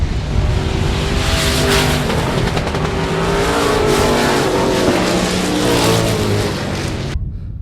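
A limited late model race car roars loudly and steadily down the stretch at South Texas Speedway as it takes the final turn to win the main event, its engine note wavering before cutting off abruptly near the end.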